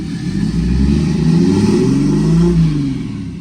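A turbocharged Jeep Cherokee engine revs hard nearby, rising and falling in pitch in a loud continuous roar that climbs past its set limit before easing off.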